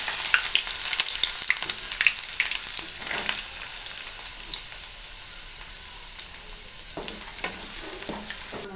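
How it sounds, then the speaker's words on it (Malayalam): Ginger and garlic sautéing in hot oil for a pickle, with a loud continuous sizzle and frequent scraping stirs early that ease into a steadier hiss. "ഇനി വഴറ്റി കൊടുക്കുക"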